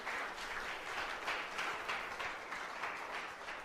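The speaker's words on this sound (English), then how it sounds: "let's give him a round of applause for that." An audience at a TEDx talk claps steadily in a dense, even wash of applause, moderately distant, with no voices over it.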